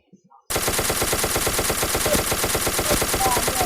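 Rapid automatic gunfire in the online voxel shooter Ace of Spades, a dense rattling burst that starts abruptly after a brief quiet moment and continues loud and steady to the end.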